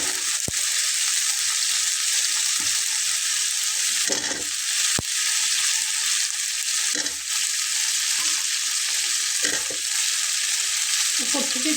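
Sweet pumpkin pieces frying in a pan for a vegetarian niramish dish, a steady close sizzle with occasional stirring scrapes and clicks throughout.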